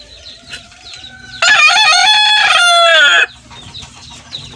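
A loud broodcock rooster crow rings out for about two seconds, rising and falling, between quieter stretches of faint clucking and farmyard background.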